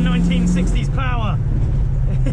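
A 1968 Ford Mustang driven at its drift limits, its engine a loud, low rumble that holds steady throughout, with a voice talking briefly over it inside the car.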